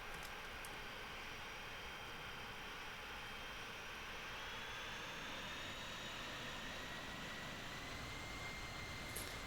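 Boeing KC-135 jet engines whine while taxiing in Microsoft Flight Simulator 2020, a faint, steady turbine hum and hiss with tones that slowly rise as throttle is added.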